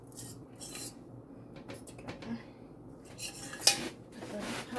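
A spoon scrapes and clinks against a metal pot, collecting the last bits of potato filling in a few short, close, irregular scrapes with one sharper clink.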